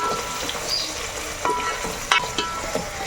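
Green chillies and onion being stirred in a frying pan, soft continuous sizzling broken by several sharp scrapes and clinks of the spoon against the pan.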